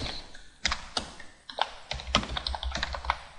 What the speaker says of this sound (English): when we type in a client's name